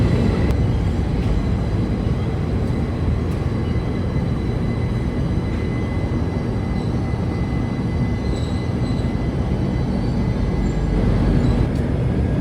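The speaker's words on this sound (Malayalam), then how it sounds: "ആലപ്പുഴ സൂപ്പർ ഫാസ്റ്റ് എക്സ്പ്രസ് ആണ് ദേ" The Alappuzha Superfast Express pulls into Cherthala station with a continuous, fairly loud rumble of wheels and carriages rolling past, steady throughout with no talk.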